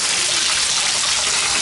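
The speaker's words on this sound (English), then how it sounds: "And we'll see how the shower goes" A dirty shower head in an apartment bathroom sprays water with strong pressure, a loud, continuous, close hiss with no breaks and no voices.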